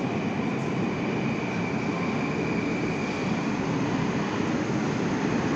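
A steady, loud rumble of a Moscow metro train at Savyolovskaya station on the Big Circle Line, broad and continuous with a faint high whine, no voices.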